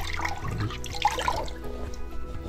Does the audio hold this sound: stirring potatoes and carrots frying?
no